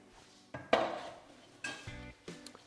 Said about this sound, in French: je retire le cercle